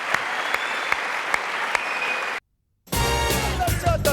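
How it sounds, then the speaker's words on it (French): Studio audience applause during a live broadcast from Studio 102 at the Maison de la Radio. The clapping is full and steady, then cuts abruptly to silence before a different tonal, music-like sound starts. "Applaudissements pour Pierre Bellemare"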